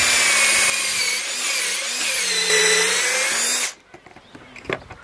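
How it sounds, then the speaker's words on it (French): Power drill boring a hole through pallet wood with a clamped drilling jig, a steady whine that rises and dips for several seconds before cutting off, followed by a few faint clicks and handling knocks. "le gabarit est en place, serre-jointé, il n'y a plus qu'à venir et percer"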